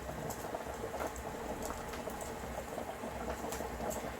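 A pot of water holding 500g of spaghetti noodles boils vigorously, a dense, steady bubbling and gurgling that continues without pause, close by and moderately quiet.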